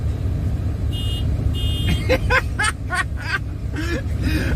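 Two short, high musical beeps from a big truck's novelty roadrunner horn on a freedom convoy sound over a low engine and road rumble, followed by chirpy laughter and voices nearby.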